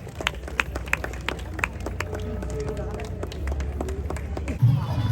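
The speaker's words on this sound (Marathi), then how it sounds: "आपण सर्वांनी त्यांचं टाळ्या वाजवून स्वागत करायचं आहे" Wedding guests clap to welcome the couple as a gold chain is given, a steady patter of applause under ongoing talk from people close by.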